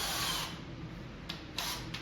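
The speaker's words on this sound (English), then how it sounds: "I'm going to use an 1/8 inch drill bit to pre-drill my holes for these screws" A power drill with a 1/8 inch bit pre-drills screw holes through plywood into a cabinet during an arcade machine restoration: a steady high whir, then a few short bursts as the trigger is pulsed, with no talking.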